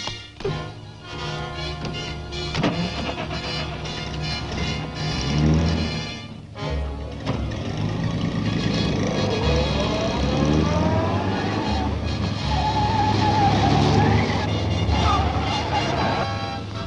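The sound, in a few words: car driving off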